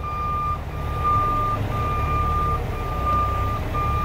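A truck backing up while dumping a wagon sounds a steady series of loud, regularly spaced reversing beeps over a low rumbling diesel engine, about four beeps continuing throughout.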